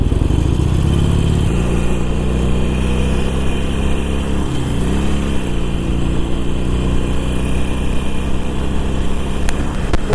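A 2018 Harley-Davidson Iron 883 motorcycle at highway speed, a loud continuous engine drone with steady low pulsing and rushing wind noise, the pitch shifting slightly as the bike holds speed.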